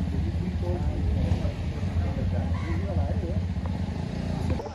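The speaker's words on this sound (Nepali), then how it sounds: "अब बाइकहरू स्टार्ट भइसक्यो।" Hero Xpulse 210 motorcycles run after being started, a steady low engine rumble and wind noise lasting throughout while a person talks over it.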